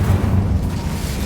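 An Incendio fire spell in Hogwarts Legacy gives a short, loud, low rumbling roar that holds steady and then eases slightly.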